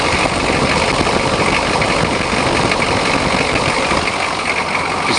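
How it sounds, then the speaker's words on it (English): Engine idling steadily and loudly with a loose belt flapping, a dense continuous rumble with a fast irregular flutter running through it, no voices. "That belt's flapping around."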